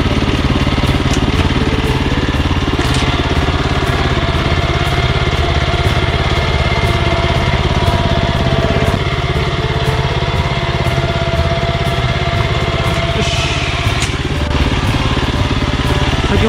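A tractor fitted with a rotary tiller runs steadily while ridging a field, its engine a loud, continuous close-up drone that holds throughout without a break.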